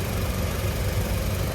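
A Toyota Hiace TRH 214 van engine idles with a steady, low rumbling drone and faint vibration, close by and continuous, with no talking.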